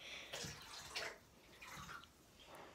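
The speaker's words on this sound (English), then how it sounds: "Wait, are you pouring water in your head?" Water splashes out of a cup in several uneven gushes and spills, faint and close, during an ice bath challenge.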